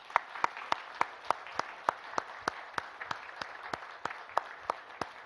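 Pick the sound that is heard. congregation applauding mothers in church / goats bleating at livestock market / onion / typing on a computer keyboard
congregation applauding mothers in church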